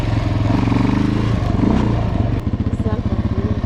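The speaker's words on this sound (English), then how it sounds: "right now you're in first gear, just ride around real quick" A Suzuki LTZ400 ATV ridden in first gear, its single-cylinder engine chugging loud and close with a steady rapid thump that eases to a lumpier idle-like pulse near the end.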